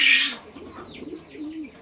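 A racing pigeon held in the hand gives soft, low cooing calls, a few short rolling coos close by after a brief rustle, with no talking.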